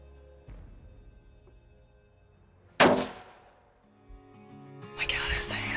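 A single sharp, loud 6.5 caliber rifle shot rings out at a whitetail deer in South Texas brush country, followed by a quickly fading echo. Quiet low voices come before and after it.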